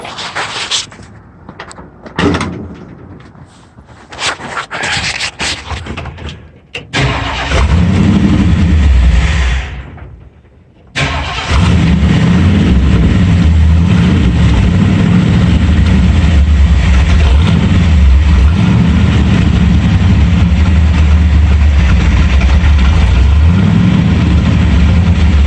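A Ford F100 pickup engine fitted with a new carburetor runs rough with an air leak, sputtering and dropping out before roaring back into a loud, sustained running drone.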